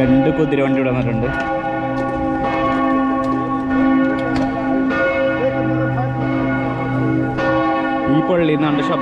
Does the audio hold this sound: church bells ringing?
yes